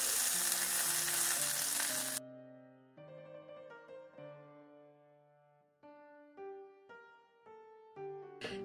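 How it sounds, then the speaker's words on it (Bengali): Whole quail fry in oil in a pan until lightly browned, a loud, dense sizzle for about two seconds that cuts off abruptly, followed by quieter musical tones. "পাখিগুলোকে ঠিক এইভাবে আমি হালকা একটু বাদামি করে ভেজে নিলাম।"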